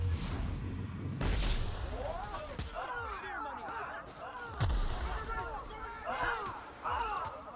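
Gunshots in the video game The Outer Worlds, a run through the Tartarus Labyrinth: loud heavy bursts around 1.5 and 4.7 seconds, with sharp energy-weapon chirps and sweeping whines between them, and voices talking underneath.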